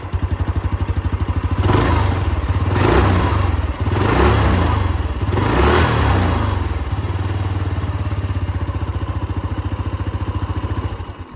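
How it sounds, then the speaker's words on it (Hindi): Hero Xoom 160 scooter running with its exhaust cover removed, a steady close-up idle thrum broken by three or four quick throttle blips that rise and fall before settling back to idle. "एग्जॉस्ट साउंड आप लोग सुन लीजिए।"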